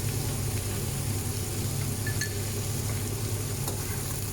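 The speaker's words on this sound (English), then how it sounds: "You need to continue mixing this onion mixture." An onion mixture frying and being stirred in a pan gives a steady, close sizzle with a constant hiss throughout and faint scraping of the stirring utensil, with no talking.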